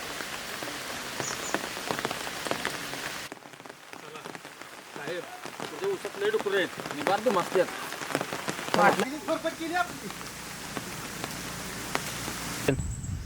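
Steady heavy rain hisses and patters throughout as voices talk over the downpour.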